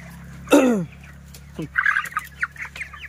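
Broiler chickens on a poultry farm cluck and squawk nearby, with one loud call followed by several shorter clucks over a low steady hum.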